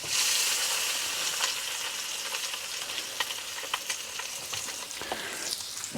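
Meat frying in an overheated fry pan, a loud dense hissing sizzle with many sharp spits and pops scattered throughout, close and continuous.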